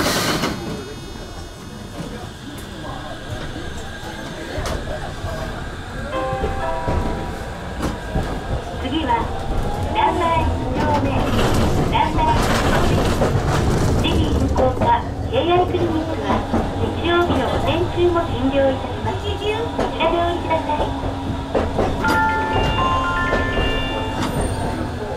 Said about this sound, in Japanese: 発車します。